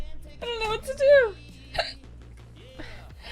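Hiccups from a person: a couple of sudden, short squeaky gulps mixed in among voiced sounds, one sharp loud burst near the middle, with talking around them.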